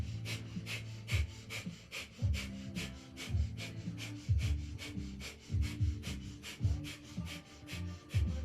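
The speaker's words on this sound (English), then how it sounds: "in the full posture with breath of fire" Breath of fire yogic breathing during a live yoga class: rapid, rhythmic forceful exhalations through the nose, close and steady, pulsing at about two per second for the whole stretch.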